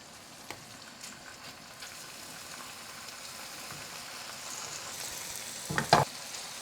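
Paneer pieces fry in a little hot oil in a pan, giving a soft, steady sizzle throughout, with a brief clink of a utensil near the end.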